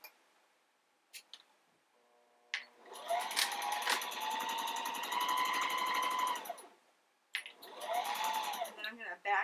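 A sewing machine stitches down a cloth diaper pod, running in two steady buzzing bursts of several seconds each after a few brief clicks and knocks, close and loud.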